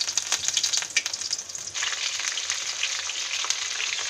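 Stuffed capsicums frying in a few spoons of oil in a pan, a bright continuous sizzle with crackling pops, briefly quieter before swelling into a steady hiss.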